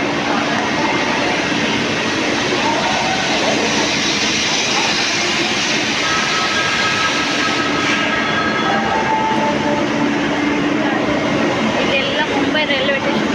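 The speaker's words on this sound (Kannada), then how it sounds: "ಮುಂಬೈ ರೈಲ್ವೆ ಸ್ಟೇಷನ್ ಎಷ್ಟು ಚೆನ್ನಾಗಿದೆ" Continuous loud rumble and rolling clatter of trains at Mumbai railway station, a steady roar filling the whole stretch with faint tonal squeals and station bustle mixed in.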